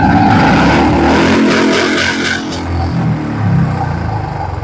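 A 2022 Royal Enfield Bullet Standard motorcycle, fully loaded with ABS, revs loudly and close, its engine rising and falling in a steady throb that eases off partway through.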